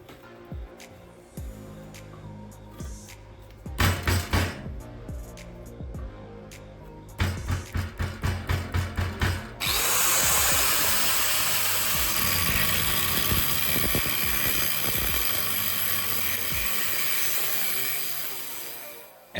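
A metal pipe is cut while gripped in a homemade welded clamp built from leftover metal. Loud, close mechanical rattling and rhythmic pulses give way to a steady, harsh, sustained cutting roar that runs to the end.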